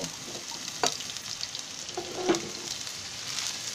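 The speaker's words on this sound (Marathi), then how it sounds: "हे पहिला थोडासा कांदा फोडणीला द्यायचा" Continuous hissing sizzle of onion frying in generous hot oil as tempering, with a few sharp crackles and spoon scrapes along the way.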